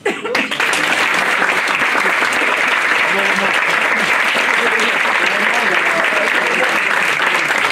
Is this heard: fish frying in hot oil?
no